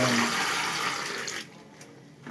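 Water is poured into a newly installed pour-flush toilet, a loud rushing gush for about a second and a half that drops off quickly, leaving faint trickling and a small splash at the end.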